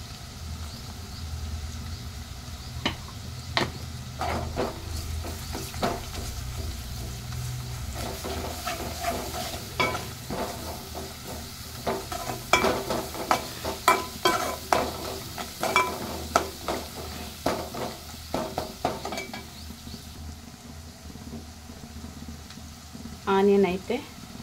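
Onion with ginger garlic paste fries in a pan for an egg, capsicum and tomato masala curry, a soft, steady sizzle with frequent clinks and scrapes of stirring throughout, growing busier toward the middle.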